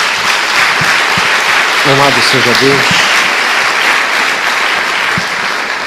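Church congregation applauding in praise during a Portuguese-language sermon, a dense steady wash of hand claps filling the room throughout, with a voice briefly speaking over it.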